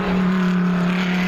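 Race cars, including a Porsche 993 and Cobras, roar loudly and steadily on a circuit during a class race, a sustained close engine drone throughout.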